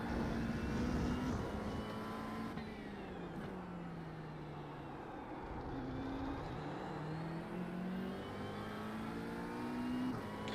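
GT3 race car engine in the iRacing video game held at full throttle around Interlagos, a loud, steady high-revving drone with smooth pitch rises and shifts throughout, alone without talk.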